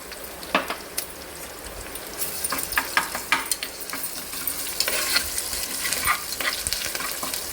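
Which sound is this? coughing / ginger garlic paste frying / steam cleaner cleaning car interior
ginger garlic paste frying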